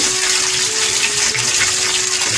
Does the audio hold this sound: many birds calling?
no